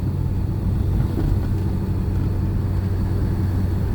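A car engine drones steadily while driving during a driving lesson, a low continuous rumble with road noise filling the background, no voices over it.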